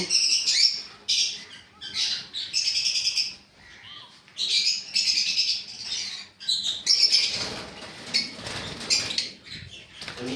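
Many birds chirp and squawk together in a busy, continuous chorus, loud and close, with no talking.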